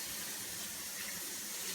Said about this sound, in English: We are going to pour this with water.